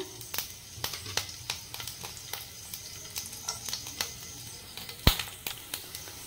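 Chopped green chillies fry in a little hot oil in a wok, giving a soft continuous sizzle broken by frequent sharp pops and crackles, with no talking.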